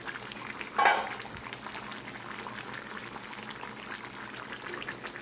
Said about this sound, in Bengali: টকবগিয়ে ফুটছে